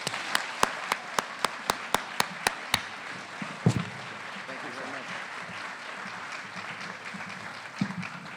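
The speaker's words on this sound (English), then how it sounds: "I don't recall ever seeing any teacher in my high school get that kind of applause" Audience applause greets New York State Attorney General Eric Schneiderman in a school setting; single sharp claps ring out at first, then a steady wash of clapping from the crowd, with voices mixed in.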